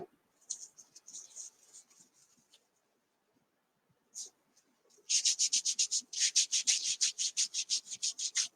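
A fingertip rubbing and blending chalk on a surface, with soft intermittent scratchy strokes at first, then a fast rhythmic series of close, brisk rubbing swipes.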